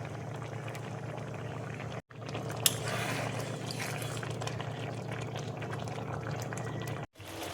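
Egg curry simmering in a pot on a gas stove, a steady close bubbling hiss with soft popping, broken by two brief gaps.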